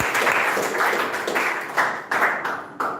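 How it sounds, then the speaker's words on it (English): A classroom of students clapping for a classmate's performance at an English academy: a dense, close burst of applause that swells and fades in uneven waves, with no talk over it. "Once again, clap for him."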